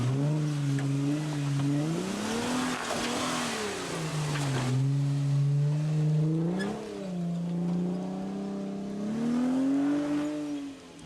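An off-road vehicle engine on a Windrock Park trail climb runs wide open, revving up and down in long swells with a strong droning tone that rises, dips and climbs again, loud and close throughout.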